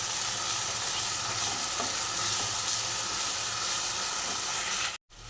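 Green chillies stirred and frying in a pan for a pabda fish curry with mustard and poppy seed, giving a loud, steady sizzle with scraping stirs throughout before cutting off abruptly at the end.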